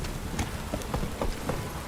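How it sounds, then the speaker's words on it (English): Steady heavy rain hisses throughout in The Witcher 3 video game, with a few sharper patters and light thuds mixed in; no voices. "This downpour's a bastard, it is."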